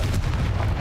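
A Confringo blasting-curse explosion from a wizard video game, a dense, booming low-end burst that fills the short moment loudly and continuously, with no talking over it.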